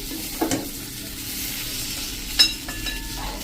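Capsicum sabji with spices being stirred in a pan, a low steady sizzle broken by a few sharp spoon scrapes and clinks, close and alone.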